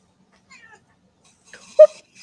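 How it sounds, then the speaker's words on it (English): A pet cat gives one short, soft meow, preceded by faint rustling in an otherwise quiet room. "You're a very pretty kitty."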